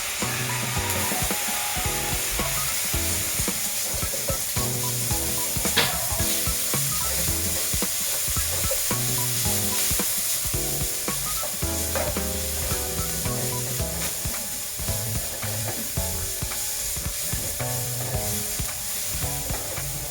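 Garlic sizzles and fries steadily in a pan, a continuous close crackle with occasional stirring clatter and a faint background rattle of construction work.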